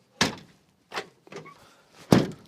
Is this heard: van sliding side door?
yes